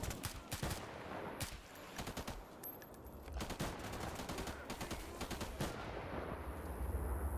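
Gunfire in GAMMA, a survival shooter: sharp bursts and single shots crack out in irregular clusters, some loud and close and others softer, over a continuous noisy background.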